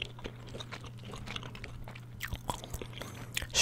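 Close, wet gum chewing of strawberry gum, with soft irregular smacks and crunchy bites, over a steady low hum from a Fortnite gaming session; no talking.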